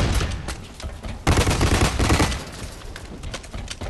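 Rapid gunfire from the first-person shooter Blacklight Retribution crackles in dense, continuous bursts that swell louder midway, with no talking over it.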